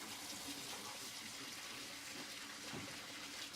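Water fills and drains a film developing tank during processing, a continuous steady rush of running water, close and fairly quiet, with no talking.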